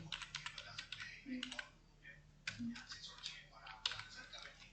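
A word typed on a computer keyboard, steady rapid key clicks in short bursts with brief pauses, close and quiet, with a voice speaking softly beneath.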